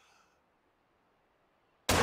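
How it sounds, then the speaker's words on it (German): After near silence, a single loud, sharp hunting rifle shot cracks suddenly at the very end, in the video game theHunter: Call of the Wild. "Dem musste ich jetzt noch einen Schuss verpassen."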